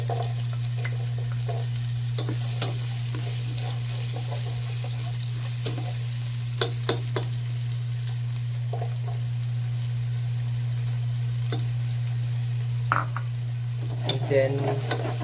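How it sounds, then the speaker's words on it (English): Onions frying in a pan after pork has been seared, with steady sizzling and occasional stirring scrapes over a constant low hum, close and continuous with no talk. "So after we seared our pork, we're gonna add our onions."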